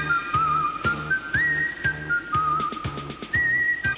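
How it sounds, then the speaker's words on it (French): A whistled melody of clear, sustained tones that glide between notes, over a steady rhythmic musical backing with regular percussive beats, in a Dragon Ball Z film. "film commence en musique avec Gohan qui veut montrer à Piccolo comment il a bien dressé son dragon en sifflotant une mélodie."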